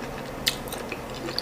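A close mouth bites into ndole with boiled ripe plantain, giving a soft bite and chewing sounds with a few small clicks and smacks. The clip is short and quiet, with no talk.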